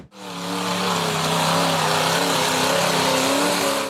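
An off-road buggy engine roars hard and loud as it strains up a treacherous, near-vertical rock wall, holding a strained, steady revving drone from start to finish.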